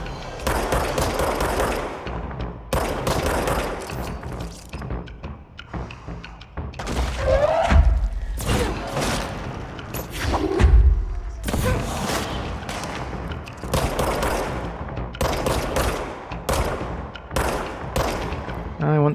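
Repeated bursts of weapon fire from the video game Control, loud and close, in rapid volleys separated by brief pauses, with impacts and some shattering mixed in.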